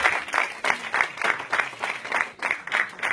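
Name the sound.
audience applauding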